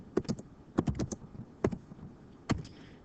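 Someone types on a computer keyboard in short, quiet bursts of clicking keystrokes, with brief pauses between clusters.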